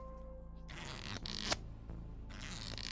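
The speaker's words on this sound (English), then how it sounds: "That's sticky notes." Sticky notes handled close in front of a microphone, giving a few seconds of papery rustling and crinkling with a sharp snap partway through over a low steady hum.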